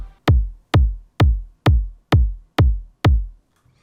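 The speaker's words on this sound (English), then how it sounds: "First we have the kick that sounds like this." Looped kick drum built with the Thump synth plugin for a video-game-inspired techno track: seven punchy, evenly spaced booming hits with a sharp click and decaying low tail, loud and alone.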